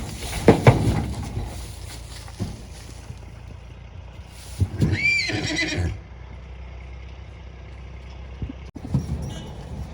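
A Kathiyawadi mare whinnies loudly and shakily at close range, with a shorter snort and hoof sounds around it, outdoors in a rural setting with a faint background hum and brief stray noises.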